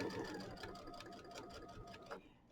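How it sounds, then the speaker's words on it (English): Sewing machine stitching a quarter-inch piecing seam on a quilt block, a steady rapid needle rhythm, quiet and alone throughout. "And I'm going to do a 1/4 inch seam."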